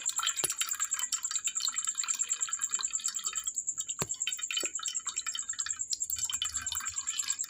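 Herbal paste juice dripping through a strainer, a few distinct close drips falling over a faint watery trickle.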